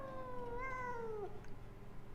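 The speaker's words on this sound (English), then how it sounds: "that might be why we are hearing a cat around her" A cat in the video game Pathologic 2 gives a single drawn-out, falling meow, clear against a low steady background hum.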